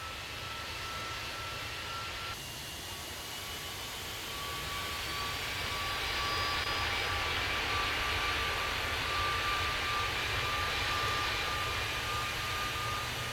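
A UPS heavy jet departing in the airport tower game Tower! Simulator 3 at Ontario airport, a steady broadband engine roar that swells slightly and holds for the whole stretch, with no voices.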